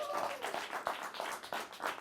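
A studio audience at the season premiere of a comedy variety show applauds in a dense, continuous patter of many hands clapping, heard at a moderate distance.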